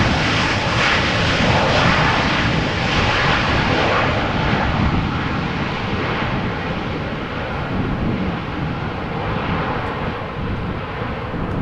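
An airliner in a hybrid Global X and TUI livery arrives at Amsterdam Schiphol in a gusty crosswind, its jet engines making a loud, sustained roar that stays constant and close throughout, with no talking.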